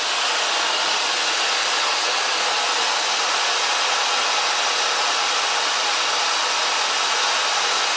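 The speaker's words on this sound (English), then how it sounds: "Now I start blow drying with a diffuser." A hair dryer fitted with a diffuser blows on long curly hair in a salon, a loud, steady airy roar that holds constant throughout without speech.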